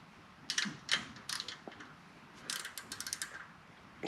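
A hand ratchet clicks in short bursts while snugging rocker box bolts on a 2004 Harley-Davidson Road King Twin Cam, with quick repeated ratcheting strokes separated by brief pauses, close up and fairly quiet.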